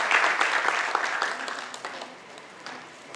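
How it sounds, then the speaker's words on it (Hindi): Audience applause at a ballet honouring ceremony for a Shakuntalam production, dense clapping that starts loud and gradually thins and fades out. "बहुत तालियां"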